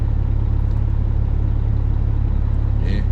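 A truck starter cranks the engine steadily in a loud, close, even low rumble that holds without a catch through the whole stretch, with a faint thin sound near the end.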